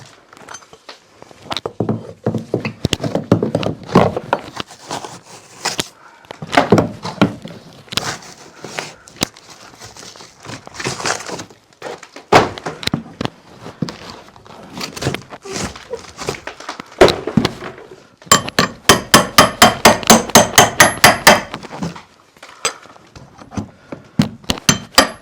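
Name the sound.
hammering and breaking sheetrock off a wall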